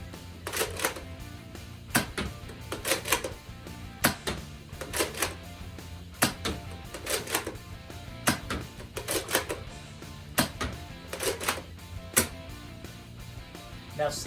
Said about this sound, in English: Let's show you firing. Starting off the included elite darts and include 6-round mag